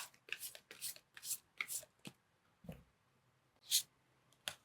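Tarot cards are shuffled by hand close up in several quick riffling bursts with short pauses between them, then a light tap and a couple of final flicks, all quiet and with no voices.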